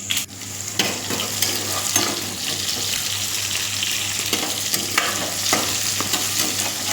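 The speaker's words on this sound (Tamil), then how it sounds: "இதெல்லாம் போட்டு நல்லா வந்து செவக்க வறுத்துக்கோங்க வெங்காயம் நல்லா செவந்து பூண்டெல்லாம் நல்லா செவந்து வறு வறுத்துக்கோங்க" Onions, garlic and bitter gourd fry in hot oil with a steady, close sizzle, broken by scraping stirs of the pan throughout. No one speaks.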